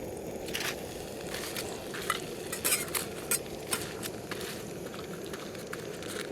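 Pork parcels and potatoes fry in a pan with a steady sizzle, joined by several clear clinks and scrapes of a utensil stirring against the pan.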